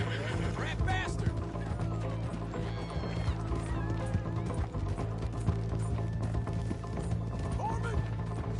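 A horse neighs and hooves clip-clop in Red Dead Redemption 2, with whinnies and trotting over a steady low rumble and music-like drones. Faint mechanical clicks and rattles sit in the mix, and a voice speaks briefly.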